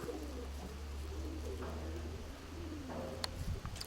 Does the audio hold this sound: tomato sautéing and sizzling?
no